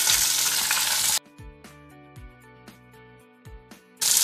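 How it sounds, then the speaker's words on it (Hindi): Onions fry in a hot pan with a loud steady sizzle at the start and end, broken in the middle by several separate scraping stirs of a spoon against the pan. "अब इसमें 2 मीडियम साइज का प्याज लेंगे, इसे भी डाल देंगे।"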